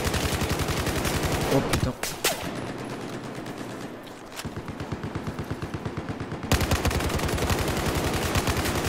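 Sustained automatic rifle fire in Battlefield 4 multiplayer hammers away in long rapid bursts, pauses briefly around a few sharper single shots, then resumes just as loud. A man briefly exclaims over it.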